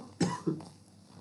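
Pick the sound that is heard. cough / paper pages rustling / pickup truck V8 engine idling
cough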